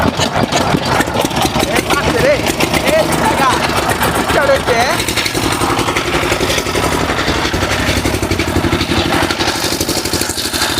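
A trawler boat engine idles close by with a steady, rhythmic chugging, and people talk over it throughout.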